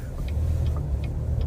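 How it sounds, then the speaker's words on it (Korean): Faint, regular creaking ticks from the third row of a Chevrolet Traverse, repeating about every 0.4 seconds over steady low road and engine rumble inside the cabin. "3열 잡소리"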